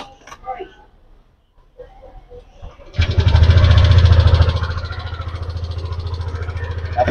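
A motorcycle engine starts after some quiet handling noises and then runs at a steady idle, powering a portable air compressor through its 12-volt socket, loud and close with a brief higher-revving surge before settling.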